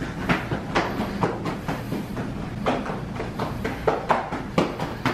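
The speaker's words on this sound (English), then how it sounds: "I love how him walking sounds like a train going through a tunnel." Heavy footsteps walking indoors, a steady series of thudding steps with a rhythmic, rumbling clatter, fairly close and alone without talking.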